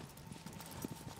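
A horse in the video game Shadow of the Colossus trots with a few soft, quick clip-clop hoof falls, faint and brief, with no voices.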